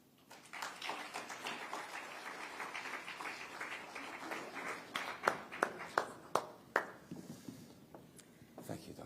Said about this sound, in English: Another round of applause as Dr. Odusola takes his seat.